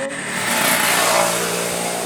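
A motorcycle engine revs loudly and steadily close by for about two seconds, its sound holding strong throughout during a short film shoot, with no talking over it.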